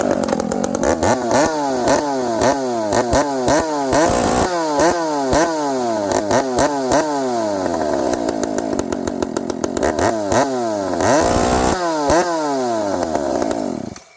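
A Dolmar 7300 chainsaw fitted with a Bearclaw exhaust pipe and its limiter removed, run loud and close with repeated rapid revving up and down throughout, no talking.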